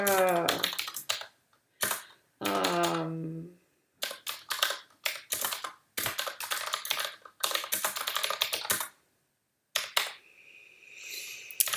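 Rapid clicking keystrokes on a computer keyboard come in quick bursts separated by pauses, close and crisp, with a brief voice at the start.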